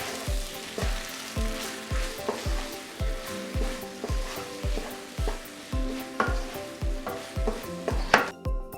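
Pulled pork fried rice with green onions sizzles in a hot pan as it gets a fast mix, with a steady loud fry under regular, evenly spaced scraping strokes of the spatula, no voices.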